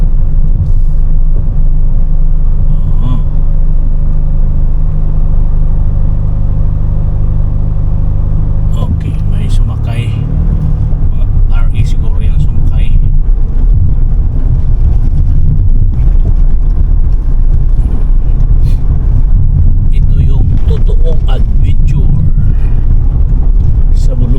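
A vehicle travels over a rocky road in Pangasinan, producing a loud, continuous rumble and engine drone. Bumps and knocks from the rough surface break through the rumble at intervals, and voices talk briefly over it.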